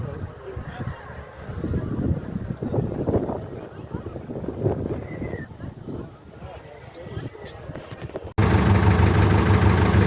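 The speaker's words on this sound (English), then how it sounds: "So, tractors are starting up now." David Brown tractors starting and idling at an outdoor show, low engine rumble under wind buffeting and nearby talk, then a louder, steadier engine drone close to the microphone at the end.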